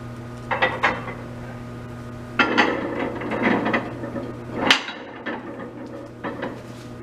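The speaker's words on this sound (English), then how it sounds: "I'm going to take one plate off the hanger" A metal weight plate is lifted off a beam-test hanger in a lab, giving several close clinks and scrapes in uneven bursts over a steady background hum.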